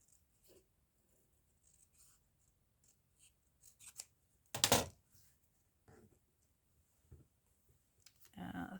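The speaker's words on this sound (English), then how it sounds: "I think I'll do my crunchy decorative scissors on the ends" Decorative craft scissors with a crunchy edge snip paper in short crisp bursts, one loud cut standing out, with quiet talk in between.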